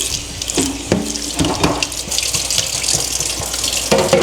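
Cold tap water runs steadily into a double-bowl sink, splashing and gurgling with a few clinks of dishes, close by and fairly loud.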